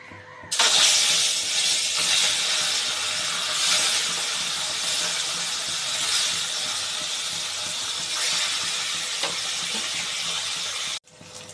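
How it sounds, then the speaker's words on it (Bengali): Fish rubbed with salt and turmeric frying in hot oil, a loud steady sizzling hiss that begins abruptly as the pieces go in and holds evenly for about ten seconds before cutting off. "এবার ভালো করে মাছগুলো লবণ আর হলুদ দিয়ে ভালো করে মাখিয়ে নিয়েছি। এবার চলো ভেজে নিই।"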